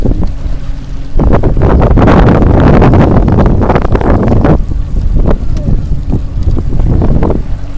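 Strong wind on a lake roars and buffets the microphone on a bass fishing boat. The gusts are loud and continuous with low rumbling, and a voice is faintly heard under them.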